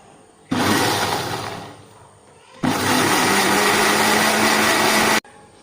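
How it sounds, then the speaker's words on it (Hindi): An electric blender whirs loudly as it blends an Oreo milkshake with sugar, running in two steady bursts with a short pause between them and cutting off abruptly at the end. "अब हम इसको ब्लेंड करेंगे।"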